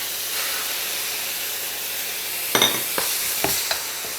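A steady hiss of frying in a wok over medium heat, then a few louder crackles and sizzles as bean curd goes into the hot oil with shallot and garlic, close up.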